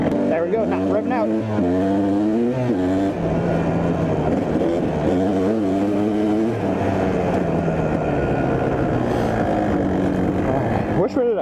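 A Kawasaki KDX 200 dirt bike engine revs and climbs in pitch again and again, loud and close, then settles into a sustained high drone, at the Bonnet Carre Spillway.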